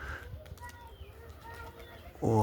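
Trained pigeons coo softly in short, faint calls over a low rumbling background, with a louder muffled thump or handling noise at the very end.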